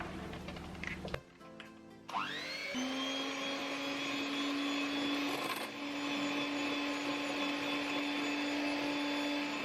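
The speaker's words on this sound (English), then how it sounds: "now we're just gonna mix everything with the hand mixer" A hand mixer whirs steadily while beating cream cheese frosting, starting after a brief clatter and then holding a constant motor whine close by, with no talking.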